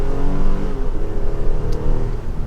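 A 2023 Infiniti QX60 Autograph AWD SUV accelerating on the road, its engine note rising steadily in a loud, close, continuous drone with smooth tonal layers and no talk over it.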